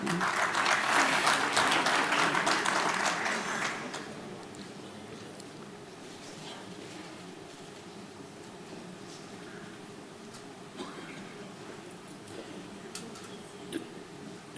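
Audience applause at a convention signing ceremony during AgroItDays 2023, a dense burst of clapping for about four seconds that then fades to scattered claps and low room murmur.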